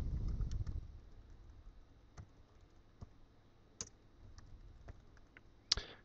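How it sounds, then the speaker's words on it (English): Computer keyboard keys clicking as a name is typed into a contact form, quiet and close, with scattered single keystrokes and brief pauses between them, no talking. "We can type in our name."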